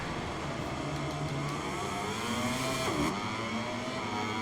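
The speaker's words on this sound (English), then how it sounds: "Stop revving the engine!" Racing motorcycle engines in the video game MotoGP 23 rev and whine loudly together at the race start on the Buddh circuit, pitches rising and falling, with a sharp dip and swoop near the middle.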